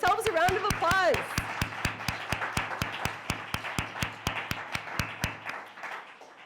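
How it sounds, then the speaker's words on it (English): Audience applause at the opening of exhibitions at the Chinese Canadian Museum in Vancouver's Chinatown: a brief burst of clapping and voices, then a slow, regular rhythmic clap that fades out near the end. "Give yourselves a round of applause."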